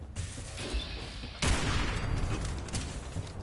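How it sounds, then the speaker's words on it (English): Heavy .50-caliber gunfire in the Fallout 4 Far Harbor area, a dense, loud burst of rapid shots that sharpens and swells partway through, continuing without pause. "that's literally 50 cal headshots"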